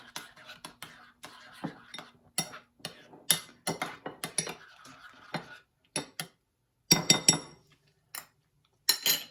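A utensil clinks and scrapes against a bowl while dosa batter is mixed, giving irregular bursts of light taps and clatter separated by short quiet gaps, fairly faint with no voices.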